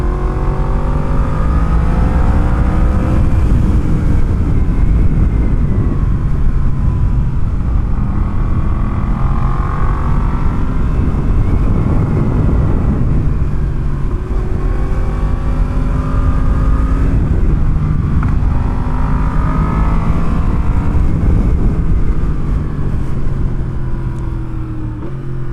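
A Yamaha FZ-10 motorcycle rides along with its engine revving loud and close, pitch climbing and falling through repeated gear pulls in long sweeping waves, with no voices.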